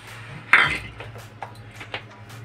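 A bowl of sugar tipped into a metal cooking pot to start a sugar syrup for soaking gaja sweets, giving one sharp metallic clatter followed by a few lighter clinks and taps against the pot over a low background hum.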